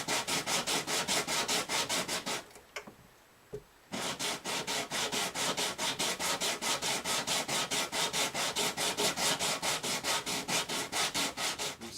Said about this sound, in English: got 800 grit here on this now. I'm just going back over it one more last time to smooth it down